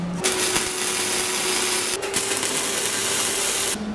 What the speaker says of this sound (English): I might give that a little grind just because I got a little blobby I did.